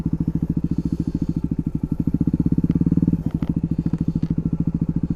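Motorcycle engine chugging at low revs while the rider turns the bike around, a loud, steady, close pulsing thump that briefly swells and then settles back.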